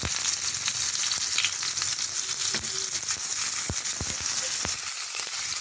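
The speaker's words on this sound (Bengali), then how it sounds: "তেলটা গরম হয়ে গেছে, পেঁয়াজ কুচানোগুলো দিয়ে দিলাম।" Chopped onions sizzling in hot oil in a wok, a steady loud frying hiss throughout with occasional crackles and pops, no voices.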